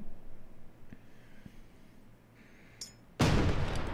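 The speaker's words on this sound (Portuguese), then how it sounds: "os caras estão levando tiro aqui" In the World War II shooter game Hell Let Loose, a few faint, distant shots crack over a quiet backdrop before a sudden loud blast of gunfire and explosion erupts near the end.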